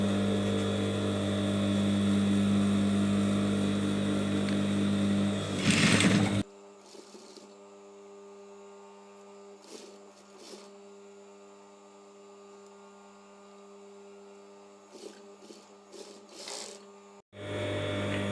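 An electric sewing machine stitches a long kurti with a loud continuous motor whir for several seconds, then stops, leaving a faint hum with small clicks before the running sound resumes at the end.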